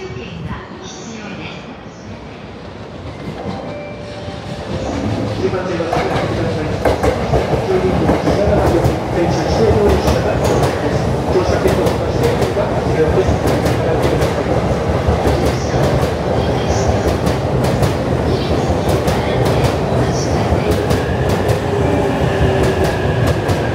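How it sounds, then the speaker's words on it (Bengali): A limited express train pulls into JR Tokyo Station, the rolling rumble growing from about five seconds into a loud, sustained roar with rhythmic wheel clatter. Voices and station announcements sit underneath. "একটা ট্রেন আসছে, এটা লিমিটেড এক্সপ্রেস"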